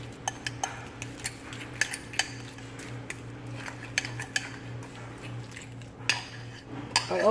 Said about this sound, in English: I'm gonna mix it real good like this